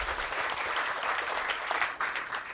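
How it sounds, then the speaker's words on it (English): An indoor audience at a formal programme event claps steadily, a dense crackle of applause sustained throughout without a break. "Let's give him another round of applause"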